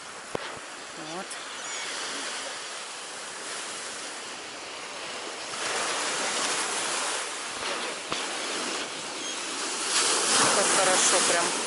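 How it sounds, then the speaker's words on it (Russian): Rough, stormy sea surf rolls and crashes continuously, swelling louder toward the end, with a faint voice speaking in the background. "Если есть волна, то это очень приятно смотреть на морскую волну бурную."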